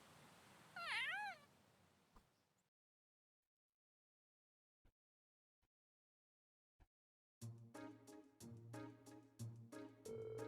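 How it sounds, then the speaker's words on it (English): A black cat in the video game Trails of Cold Steel lets out a single drawn-out, wavering meow, clear and close. A few faint clicks follow after a pause, then rhythmic game music. "Ah, a black cat crosses our path."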